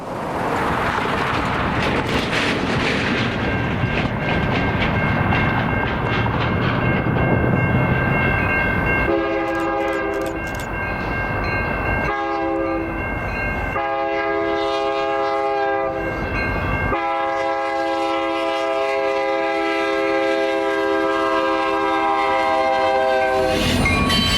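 A heavy CN freight local train roars by close up at a crossing with gateless cantilever signals, its horn blaring in several long blasts with brief gaps, over continuous rumbling of rolling wagons.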